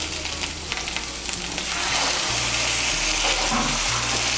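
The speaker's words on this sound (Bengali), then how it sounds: "মধ্যে আমি দিয়ে দিচ্ছি 2 কাপ গরম জল" Hot water poured into a pan of frying banana flower and rice masala, a sizzle that swells into a loud, dense steady hiss and bubbling once the water hits the hot spices, close up.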